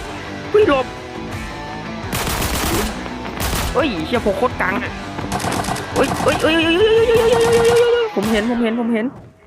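Gunfire in Arena Breakout, a military shooter game, with sharp shots and short bursts rattling through, while someone talks and shouts excitedly over them.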